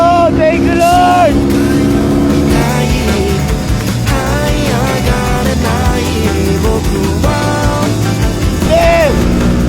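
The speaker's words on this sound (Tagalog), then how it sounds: "Sumunod motor na sa snow guys!" A snowmobile engine drones loudly and continuously while riding over snow, its pitch rising and falling with throttle changes, under excited shouting voices.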